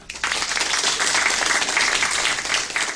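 A television studio audience bursts into dense, sustained applause for comedian Neil Kingman during a comedy contest segment on Letterman, loud and even from start to finish with no talk over it.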